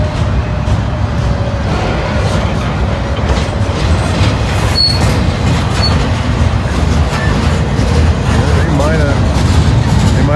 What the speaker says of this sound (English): Might have got the steel coil train out of the way.